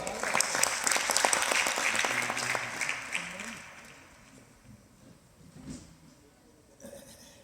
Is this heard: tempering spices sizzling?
no